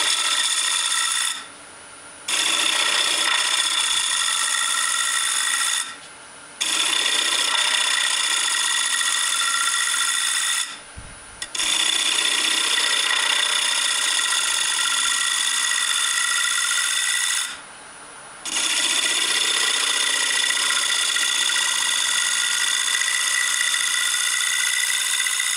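A wood lathe spins steadily while a gouge cuts a small turned plate, a continuous bright whirring hum with tonal whine broken by several short pauses, with no talk.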